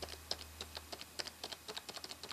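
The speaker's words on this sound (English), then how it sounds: "It's got a nice click to it, but it's not obnoxiously loud." Keys on a Logitech K400 wireless touch keyboard click in a quick, uneven typing rhythm, each tap light and crisp, heard close and fairly quiet with no talking.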